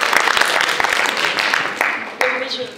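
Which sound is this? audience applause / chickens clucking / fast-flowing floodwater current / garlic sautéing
audience applause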